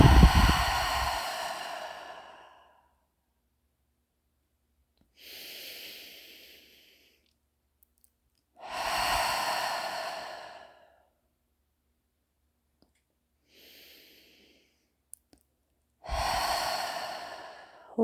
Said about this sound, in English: using that audible exhalation, sometimes called victorious breath or ujjayi breathing